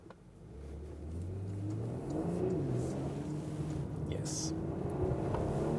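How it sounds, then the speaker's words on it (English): A luxury car with rear-biased all-wheel drive and rear-axle steering accelerates out of a corner, engine note rising steadily from the cabin, with a brief spoken word over it. "Accelerating out of the corner with the rear wheel biased all-wheel drive, rear axis steering."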